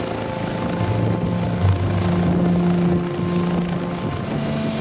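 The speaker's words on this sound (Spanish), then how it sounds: "El helicóptero medicalizado prácticamente es una UVI móvil" A medical emergency helicopter, equipped like a flying intensive-care unit, drones steadily with a loud rotor and turbine whine that stays constant and close throughout, with no voices.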